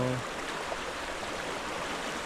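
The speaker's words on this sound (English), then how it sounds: "Here's the river we're camping next to on the Steese Highway." A fast-flowing river beside a campsite on the Steese Highway in Alaska gives a steady, full rushing wash of water, close and constant, after a brief tone at the very start.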